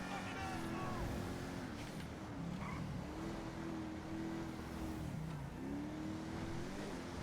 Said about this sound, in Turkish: Hemen şu arabamıza bir gaz basalım, bir fren basalım.